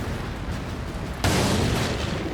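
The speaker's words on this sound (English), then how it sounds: "When an anti-tank gun fires at you, it makes a deafening noise." A German anti-tank gun fires once with a sudden loud boom that rises abruptly over steady low rumble and then holds a sustained roaring wash, like a heavy gun blast in a WWII tank battle.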